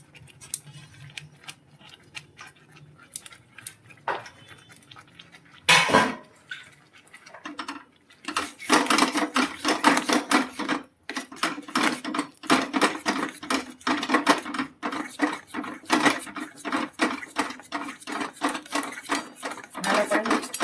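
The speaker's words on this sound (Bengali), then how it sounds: "ভালো করে মিক্স করে নিচ্ছি, অনবরত নেড়ে ভালো করে সুন্দর করে মিক্স করে নিই" Chhena and sugar are stirred together in a pan for mango sandesh, giving a steady run of close scraping and tapping from the spatula against the pan. The strokes grow busier and louder partway through and continue without talk.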